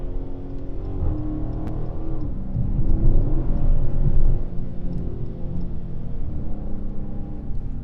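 A Dodge Charger Scat Pack pulling hard on a busy freeway, its engine note rising through a sustained rev with a deep rumble and whir, swelling to a peak before settling into steady cruising drone.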